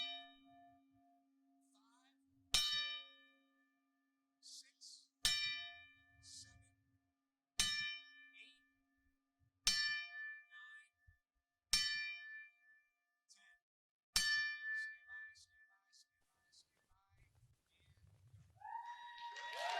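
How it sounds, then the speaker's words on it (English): A ten-bell salute at a wrestling event: single metallic bell dings ring out one by one at slow, even intervals, each decaying into near silence, with faint crowd and a brief voice at the end. "pay tribute to the great Don West with a 10-bell salute"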